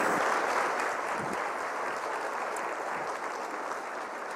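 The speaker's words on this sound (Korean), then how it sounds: "우리 두 분을 위해서 박수 한번 보내주시기 바랍니다." Audience at a 2013 South Chungcheong provincial summit applauding two hosts, a dense, steady wash of many hands clapping that holds evenly throughout without a break.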